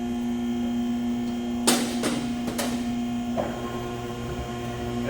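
A Hunter TCX635 tire changer turns a Galaxy Beefy Baby II 16.5-inch tire to work the first bead off, giving a steady mechanical hum with a few sharp clanks and scrapes partway through.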